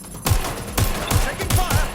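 Rapid gunfire in Watch Dogs: Legion, several heavy, loud shots in short uneven bursts close by, with game voices underneath.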